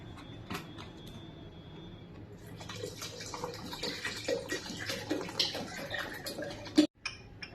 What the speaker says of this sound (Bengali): ঠান্ডা জল একটু দিয়ে দিচ্ছি